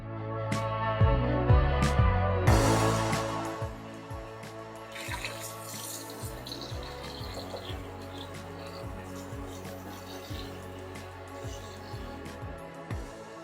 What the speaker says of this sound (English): now I'm going to bring it inside and give it a good rinse